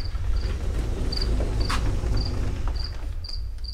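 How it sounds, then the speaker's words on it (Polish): Crickets chirp outdoors at night in short, evenly spaced bursts over a steady low background rumble, with a brief click partway through and no voices. "Ale tak pięknie świerszcze gra."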